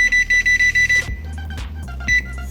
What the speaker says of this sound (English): I'm gonna put the timer on for